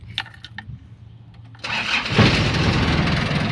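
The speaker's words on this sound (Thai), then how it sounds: "ฟังเสียงเครื่องครับ" An Isuzu TFR pickup's 2500 diesel engine cranks briefly with a few quiet clicks, then catches and roars up into a loud, rough idle that settles into a steady clatter, close to the listener.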